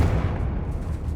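A Confringo blasting spell goes off in Hogwarts Legacy as a dull, heavy boom that rumbles low and steady for a moment, with no talk.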